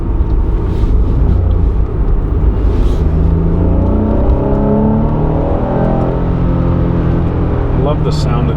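A silver 1992 Acura NSX five-speed coupe drives along with its engine and exhaust droning loudly and continuously inside the cabin, the pitch climbing and shifting through gear changes, while a voice talks over it.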